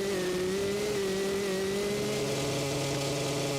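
A motocross bike engine in the video game MX vs. ATV Legends holds a loud, steady, strained high rev that sounds close to failing, a continuous buzzing drone with no voices over it.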